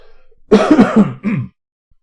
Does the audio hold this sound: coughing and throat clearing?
yes